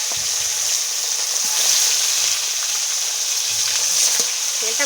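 Fish frying in very hot oil in a wok: a steady, loud, bright sizzle that crackles continuously throughout, with no voices.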